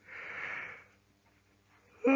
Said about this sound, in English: I can't make a video without yawning